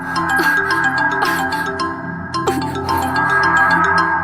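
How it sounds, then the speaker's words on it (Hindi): A phone rings with an incoming call, a steady electronic ringtone melody repeating with a few bright chime-like accents over the full few seconds, fairly loud and alone. "लो फिर फोन आ गया।"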